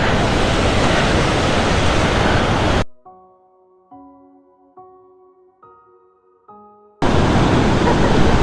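A mountain river near Scafell Pike rushes loudly in a steady broadband roar, cutting out in the middle for a few seconds of quiet with faint tonal notes before the flowing water returns.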